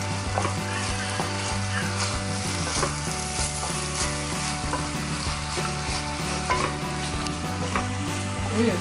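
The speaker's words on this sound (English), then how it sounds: "So I've got mushrooms, carrots, cabbage and spring onions. That's all going in really quickly. Fry that off." Mushrooms, carrots, cabbage and spring onions frying in a pan give off a steady, close sizzle that runs without a break, with faint stirring and scraping under it and no voices.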